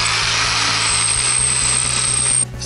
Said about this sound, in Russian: Нужно в 3 кирпичах дырки просверлить.